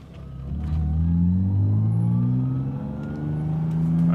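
Manual-swapped BMW E36 car accelerating, a loud mid-pitched engine note rising steadily in pitch, easing slightly as the gear changes, then climbing again, heard close from inside the car.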